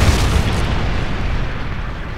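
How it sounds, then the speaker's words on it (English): A missile explosion in Modern Warfare 3 lands as one loud, heavy boom with a long rumbling roll that fills the whole stretch and fades slowly. "missile inbound."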